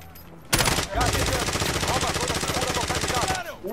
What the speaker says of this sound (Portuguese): vou parar de atirar aqui, tá acabando a minha munição